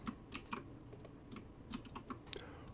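Keystrokes on a computer keyboard while writing Roblox terrain code, a quick irregular run of separate clicks close up, with short pauses between bursts.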